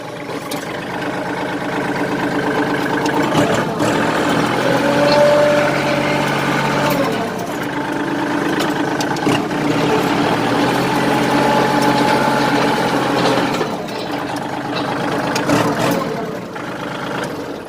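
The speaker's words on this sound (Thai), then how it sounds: "รถสตาร์ทติดง่ายครับ" A used 2016 Kubota L3608SP 36 hp tractor with about 1,349 hours on the meter runs loud and close, its engine holding a steady idle with a mechanical rattle and slight swells in level throughout.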